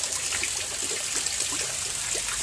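Water trickles steadily from a shower set up for swimming outdoors beside a house, a continuous hissing spray with small splashes, close and fairly loud with no talk.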